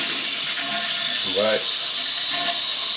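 Steady rushing hiss of water as a toilet tank drains and refills past a conventional ball cock float valve, a continuous flow close by with someone speaking briefly over it.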